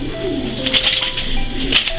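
A racing pigeon coos softly while being held in the hand, a few low throaty calls heard close up with light handling noise and no talking.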